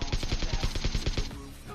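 Rapid automatic gunfire in PUBG, a fast burst of evenly spaced loud shots lasting over a second before trailing off, with no talk.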